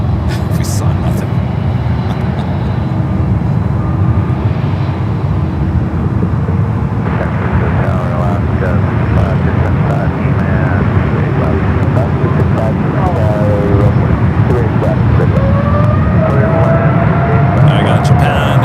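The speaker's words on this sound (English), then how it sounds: "I got Japan, the Dreamliner heading to Tokyo Narita, now rolling down to 28 left" A Japan Airlines Boeing 787 Dreamliner bound for Tokyo Narita taxis toward runway 28 left at San Francisco airport, a steady broad jet rumble and whine that holds throughout beneath a voice talking over it.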